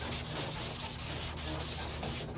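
Sandpaper, 180 then 220 grit, rubbing over body filler and spot putty on a truck panel, a rapid series of scratchy back-and-forth strokes at close range, steady and rhythmic without any talking.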